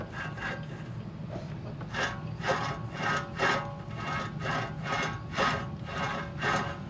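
Repeated rhythmic grinding and scraping from badly worn wheel hub bearings on a 2010 Chevrolet Camaro SS, roughly one rasping stroke per second, close by and with no voices.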